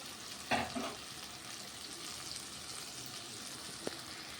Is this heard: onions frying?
yes